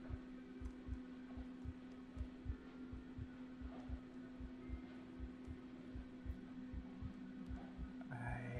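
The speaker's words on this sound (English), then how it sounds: "Also, I think I hear a faint heartbeat." A steady, faint heartbeat thuds in a regular double-beat rhythm beneath a constant low electronic hum in the horror video game Among the Sleep, with no voices present.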